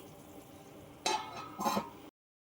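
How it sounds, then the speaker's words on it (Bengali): Masala frying with onions in a pan gives a soft sizzle, then two short bursts of louder stirring and scraping near the end, close by with no voices. "মশলাটা দিয়ে দিয়েছি, কষছে, এখন কষাতে দিয়ে দিয়েছি।"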